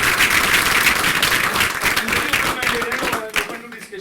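Audience at a soft skills workshop applauds, dense clapping loud at first and thinning out over four seconds to scattered claps, with crowd voices mixed in.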